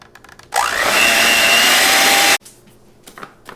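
An electric mixer whirs steadily while blending keto snickerdoodle fat bomb ingredients, starting abruptly, running loud and close for about two seconds, then cutting off.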